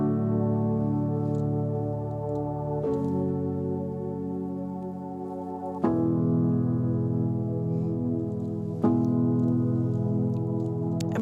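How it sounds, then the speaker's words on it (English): Soloed synth textures from Serum, Analog Lab or Arcade in an indie pop production play sustained, warm, harmonically rich chords that change three times, each new chord entering with a soft attack, alone without any voice. "Let me solo these synths for you."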